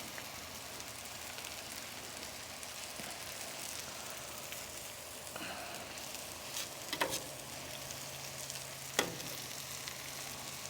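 Shredded cabbage for crack slaw sizzles quietly on an American Made Muscle Grill griddle, a continuous soft crackle with a few sharper scrapes as it is stirred and kept moving.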